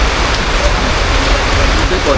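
Steady rain patters heavily and close, a dense wash of drops hitting surfaces throughout, loud and continuous.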